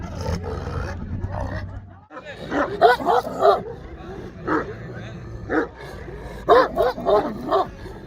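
Large Alabai dogs bark and roar in deep, ragged bursts at a dog tournament, several close together, loud and near, with pauses between volleys.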